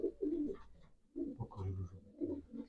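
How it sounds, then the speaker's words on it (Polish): Pigeons in a loft give soft, repeated throaty coos in short bursts, close by and fairly quiet, with brief pauses between calls. "Gołębie zdrowe."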